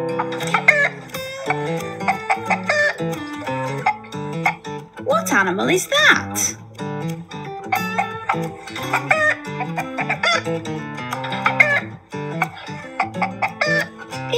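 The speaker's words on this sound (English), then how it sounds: "It's a chicken." A chicken clucks on a farm in a children's animal song, its clucks mixed with music and a speaking voice throughout.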